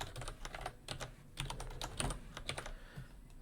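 Typing on a computer keyboard, a steady run of quick, close key clicks with irregular rhythm and no voices.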